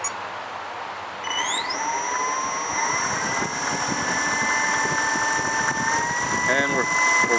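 An electric motor on a large RC model winds up under throttle on a test bench with a watt meter, its whine climbing steeply in pitch and then holding a steady high tone that wavers slightly and gets louder.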